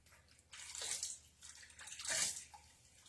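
Water is poured over hair to wet it, producing faint, intermittent splashing and trickling in uneven surges with no talking.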